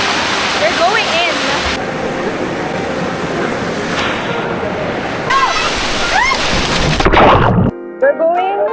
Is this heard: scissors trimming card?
no